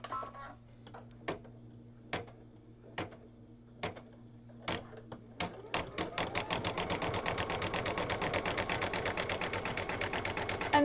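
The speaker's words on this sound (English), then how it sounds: "Next, it's going to do a satin stitch that's going to seal in the edges of the mug rug." An embroidery sewing machine stitches a satin stitch on a mug rug: spaced single needle clunks over a low hum at first, then a dense, rapid, even stitching rhythm, close and moderately loud.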